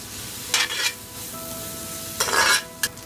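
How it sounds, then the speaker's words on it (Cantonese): Dried shrimp stir-fry with Chinese cured meats in a hot wok with a little oil, a soft steady sizzle broken by a few louder bursts of spatula scraping and tossing. "然後加入蝦米一齊爆香"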